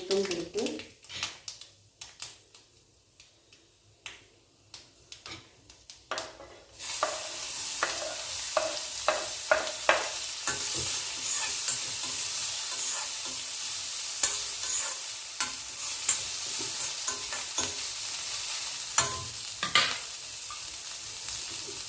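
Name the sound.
onion, mustard seeds and urad dal frying and stirred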